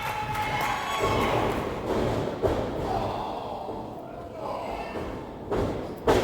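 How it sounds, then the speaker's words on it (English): A wrestler's standing drop kick lands in the ring against a 260-pound opponent, with a few sharp thuds rising over constant crowd noise and commentary during a wrestling match. "Standing drop kick. Beautifully executed there."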